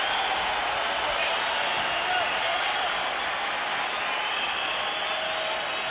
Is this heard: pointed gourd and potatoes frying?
no